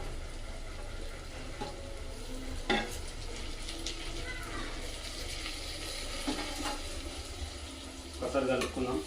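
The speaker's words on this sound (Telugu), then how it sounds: "ఫ్రెండ్స్ ఇప్పుడు టమాటా వేసుకుందాము." Bitter gourd curry cooking in a clay pot in a village-style kitchen, a steady low sizzle with scattered scraping and clinks as tomatoes go in and are stirred, no words spoken.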